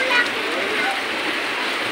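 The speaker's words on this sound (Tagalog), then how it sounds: "lumakas po kasi yung ulan" Heavy morning rain pours down over the Carmen Planas street market in Divisoria, a steady, dense hiss of water that stays loud and unbroken throughout.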